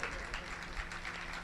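Audience at a devotional Sundarkand gathering clapping hands together, a steady, fairly distant patter of many hands with a speaker's voice over it.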